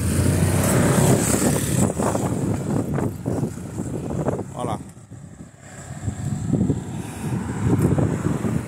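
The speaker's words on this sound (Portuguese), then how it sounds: "Tá ventando muito, pessoal. Depois dessa chuva que teve aqui na Catarina, tá passando uma ventania aqui." Strong wind after rain in the Murta neighbourhood of Itajaí, Santa Catarina, buffets the microphone in loud, rushing gusts that ease briefly in the middle, with a voice at times underneath.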